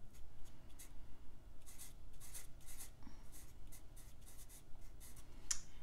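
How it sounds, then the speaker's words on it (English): A pen scratches out a number on paper while a physics momentum problem is worked through: quick, faint strokes in short bursts, close by, with no talking. "So let's just go ahead and write that down."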